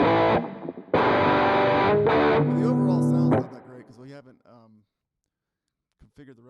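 An electric guitar through the Fire Fuzz distortion in Bias FX rings out in loud, buzzing fuzz chords for about three seconds, then decays into fainter plucked notes before fading to near silence.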